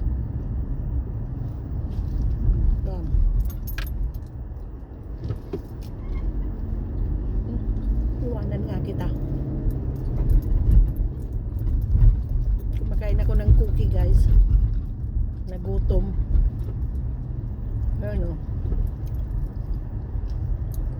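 Steady city street traffic rumbles from inside a moving car, the engine and road noise low and constant, while a person talks over it throughout.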